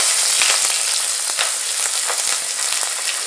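Loud, steady sizzling and crackling of habanero chili peppers frying in hot oil in a pot, with irregular pops throughout.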